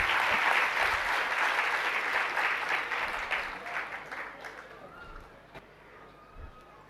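An audience at a spiritual discourse by Vidhya Sagar Ji Maharaj breaks into dense, loud applause that gradually thins and fades away over several seconds, leaving a few scattered claps.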